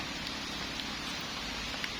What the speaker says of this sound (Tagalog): Nakabutan tayo ng ulan.